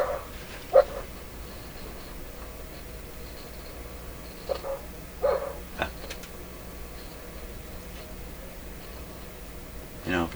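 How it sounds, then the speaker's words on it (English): A dog in a repair shop, apparently reacting to another dog passing on the street, gives a few scattered, fairly faint barks and yips spread across a quiet stretch with light background noise. "he's probably barking at another dog going by on the street"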